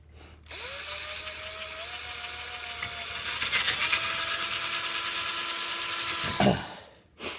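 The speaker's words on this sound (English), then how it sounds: "drill you a hole in the back of it" A power drill whirs steadily for several seconds, its pitch rising slightly as it bites, then stops abruptly with a short clunk.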